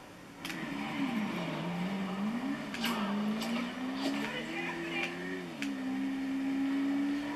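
A street bike engine in Grand Theft Auto 5 holds a steady droning note that rises and falls with the throttle, continuous and moderately loud, with faint voices in the background.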